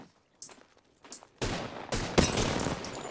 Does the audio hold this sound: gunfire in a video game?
yes